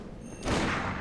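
A brief, harsh burst of gunfire in the video game Bloodborne erupts partway through, loud and close, over a dense game background.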